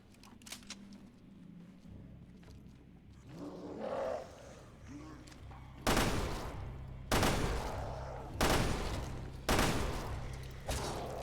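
Gunfire in a Resident Evil video game as enemies are shot, a quiet low-ambience stretch followed by a run of loud, evenly spaced blasts about a second apart, close and dominant.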